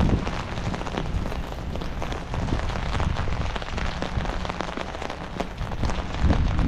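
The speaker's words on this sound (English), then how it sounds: "No getting around it, walking in the rain." Steady rain pattering hard on surfaces all around while walking outdoors, a dense, loud, continuous hiss of drops with no talking.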